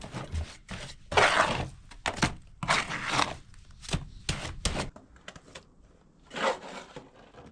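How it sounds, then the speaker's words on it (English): Months-old mortar being beaten up with a trowel for a traditional stone wall lintel: a series of loud, close, irregular slaps and scraping knocks, some bursts longer and gritty, with short pauses between. "This mortar's been mixed for several months now, so I really need to beat it up a little bit before I use it."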